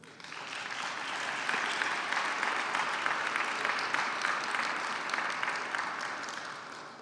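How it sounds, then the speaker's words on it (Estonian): Steady applause from a conference audience at a regional Mulgi conference in Estonia, many hands clapping evenly for about seven seconds with no one speaking over it. "võib-olla siin ka suur aplaus Avele"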